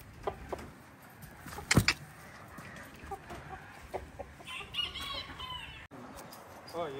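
Roosters picked out for purchase, heard at a market with clucks and a brief crow rising over a busy, noisy background with passing traffic.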